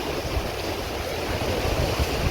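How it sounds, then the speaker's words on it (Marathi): Sea waves surge continuously at a fishing spot on the shore at Terekhol, a broad steady wash of surf with a rumbling low end and some wind buffeting, close and fairly loud with no talk. "त्या ठिक तर बघा कसली लाटा येतात."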